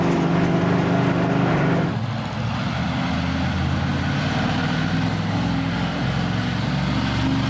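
A monster truck engine, brought back to life after a year of sitting, roars loud and close, its steady heavy rumble shifting pitch about two seconds in as the throttle opens and then holding strong.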